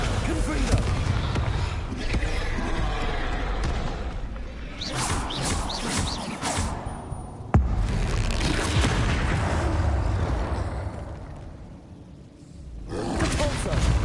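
Confringo and Incendio spell blasts in the Hogwarts Legacy video game boom and roar in loud bursts, crashing and whooshing in a dense, continuous barrage of combat effects.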